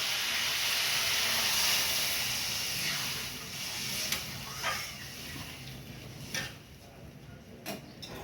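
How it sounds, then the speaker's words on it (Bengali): Water poured into spice masala frying in a pan sets off a loud steaming hiss that slowly fades, followed by a few faint clicks and clatters of utensils. "এবার আমি জল দিয়ে দেবো।"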